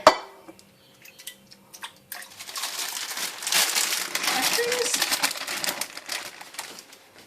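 Cooked meat and onion mixture scraped into a slow cooker of beef broth for chili, soft crinkling and clattering with light spoon-on-pot knocks, building into a denser scraping rustle midway.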